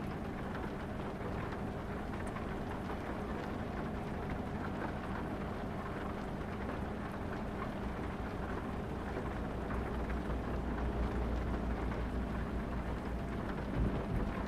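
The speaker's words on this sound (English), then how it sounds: "Thunderstorm." Rain falls steadily in a thunderstorm in the trucking game American Truck Simulator. It makes a dense, even hiss, and a low rumble of thunder builds toward the end.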